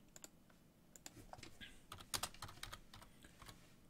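Numbers are tapped into a calculator, making a string of faint, quick plastic key clicks in an uneven rhythm, with a few louder presses near the middle. The clicks sound close, and no voice is heard.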